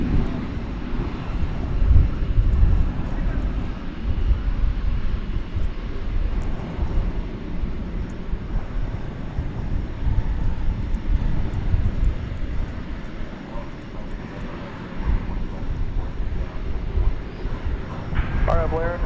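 An airliner taking off from runway 18 Left at DFW Airport at night, its engine roar steady and broad across the whole clip, with wind buffeting the microphone and a voice talking over it.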